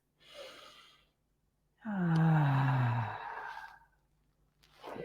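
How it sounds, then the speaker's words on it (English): A short breath drawn in through the nose, then a long, noisy, voiced exhale through the mouth, followed by another intake; close and alone. "breathing in through the nose and exhaling quite noisily"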